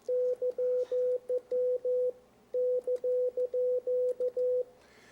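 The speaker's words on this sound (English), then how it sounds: "There are also people who communicate with Morse code or CW." Amateur ham radio Morse code (CW) sidetone: a steady single-pitched beep keyed in short dits and longer dahs, sent in two rhythmic bursts separated by a brief pause, clear and alone over a faint background.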